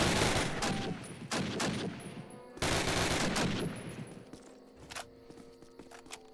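Rapid gunfire in Call of Duty (2003), bursts of automatic weapon shots ringing out loud and continuous for several seconds, then fading to quieter ambient game sound near the end.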